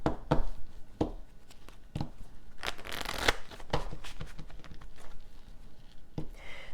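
A deck of cards being shuffled and handled up close, with bursts of riffling and slaps, one long riffle in the middle and shorter flicks around it, and no voice.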